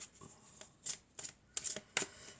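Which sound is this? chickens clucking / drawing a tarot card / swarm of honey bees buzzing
drawing a tarot card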